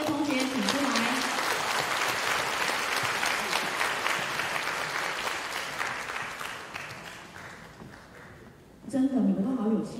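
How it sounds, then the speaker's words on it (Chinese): Warm applause from an audience greeting flute students at a school concert: dense, steady clapping for about nine seconds that slowly thins, then music and voices start up abruptly at the very end. "现在，我们用热烈的掌声来欣赏长笛的同学来为我们演奏长笛的分部曲"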